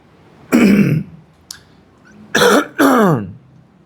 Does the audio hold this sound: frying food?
no